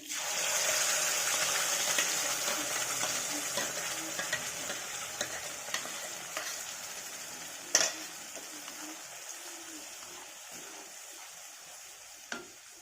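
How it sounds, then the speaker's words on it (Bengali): Ground spice paste hitting oil in a pan for paneer butter masala, giving a steady close sizzle and stir with occasional sharp clinks of a spoon against the pan. "পেস্ট করা মশলাগুলো দিয়ে দিই"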